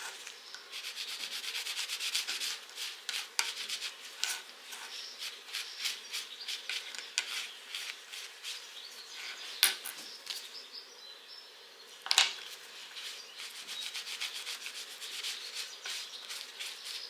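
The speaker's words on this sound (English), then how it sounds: "I then use a little rub and buff to give them some life back." Rub 'n Buff is worked by hand into furniture hardware with a fingerless glove, giving steady close rubbing and scuffing strokes in a busy, scratchy rhythm with an occasional louder swipe. It stays quiet and close, with no talking.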